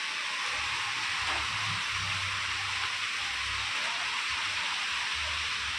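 Rain falls with gusty stormy wind in a dense, constant hiss, and a low rumble of gusts swells and fades underneath; steady and fairly loud throughout, with no voices.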